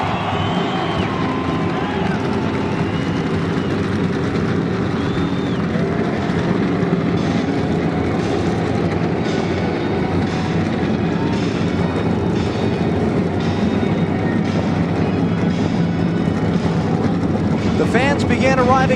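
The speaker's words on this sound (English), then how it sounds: "Gentlemen, start your engines." A field of NASCAR stock car engines fires up and idles in a dense, loud, continuous roar at the Tropicana 400 race, with crowd noise and a voice talking underneath.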